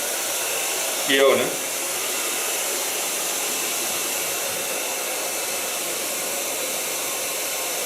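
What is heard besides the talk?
blow dryer drying curly hair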